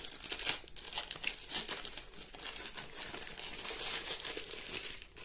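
Plastic wrapping crinkles and rustles continuously and fairly faintly, close by, as a Xiaomi Mi 360° 2K Pro home security camera is unwrapped from its packaging; no talking.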